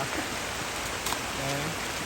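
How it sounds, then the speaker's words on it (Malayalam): Steady rain falls outdoors, a dense even hiss of drops spread across the whole clip at moderate level, with a brief faint voice near the end. "നല്ല മഴ പെയ്യുന്നുണ്ട്"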